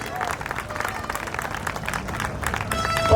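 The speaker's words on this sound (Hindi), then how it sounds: "भाई दमदार बनारसी जी जोरदार तालियों से।" An audience at a Hindi poetry gathering (kavi sammelan) welcomes a satirical poet to the stage with brisk clapping, a steady crowd applause with some background chatter that swells toward the end.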